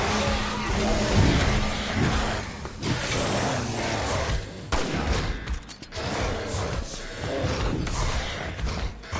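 Gunfire and combat in Resident Evil 6 during Ada Wong's campaign, a dense and loud stretch of shots, impacts and mechanical clatter with game noise all through and a voice talking over part of it.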